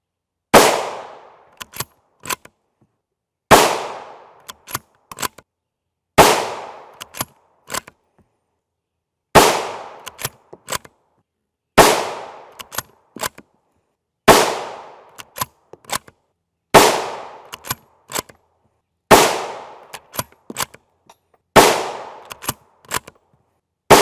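Nine loud, sharp rifle shots from a 22-inch TC Compass bolt-action rifle with a 1-in-9 twist barrel firing 5.56x45mm M193 55-grain FMJ rounds. Each report rings out with a decaying echo, spaced a few seconds apart and followed by faint clicks of working the bolt.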